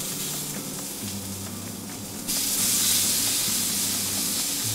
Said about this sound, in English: You even got a whole sizzle thing going here.